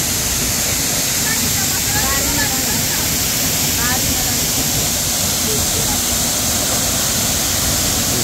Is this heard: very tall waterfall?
yes